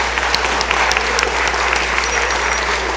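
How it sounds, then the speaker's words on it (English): Applause in the Mississippi House chamber during a morning floor session, a steady wash of many hands clapping over a low constant hum, even in level throughout. "let's give her a round of applause"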